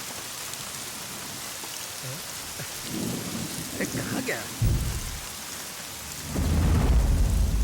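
Heavy rain pours steadily while low thunder rumbles roll in twice, the second one deep and sustained near the end, as a man calls out in the middle of the storm.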